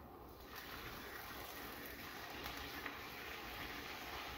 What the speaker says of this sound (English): And then you just add a little water.